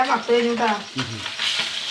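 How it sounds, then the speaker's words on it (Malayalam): Indian mackerel coated in masala sizzles and crackles in hot oil close by, with stirring and spatter throughout. "എന്റെ മീൻ വറുത്തു"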